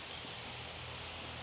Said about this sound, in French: Alors la pluie est en train de revenir.